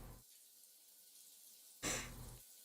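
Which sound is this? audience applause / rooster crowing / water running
water running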